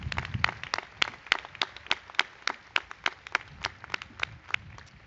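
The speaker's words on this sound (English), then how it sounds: "please join me in applauding these student achievements" Sparse, distinct hand claps at a university commencement ceremony, a small number of people clapping in an uneven rhythm, each clap sharp and separate, moderately quiet with a faint murmur beneath.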